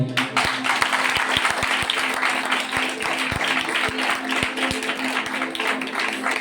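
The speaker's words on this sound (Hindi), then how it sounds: "खुशी के मौके ते इकट्ठे हुए हैं थोड़ी ताली होर बजाएं।" Congregation applause fills a Christmas church service, a dense sustained wash of clapping with a regular rhythmic clap pulse beneath, loud and close, with a voice talking over it.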